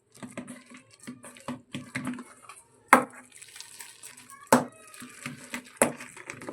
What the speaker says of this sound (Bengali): মটর ডালটা এবারে খুব ভালো করে হাতের সাহায্যে ফেটিয়ে নেব